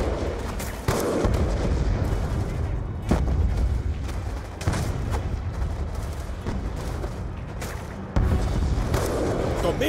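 Machine gun fire and explosions roar in Call of Duty: Black Ops 2, with heavy rattling bursts and booms that come in repeated waves, loud and close. Voices can be heard within the combat noise.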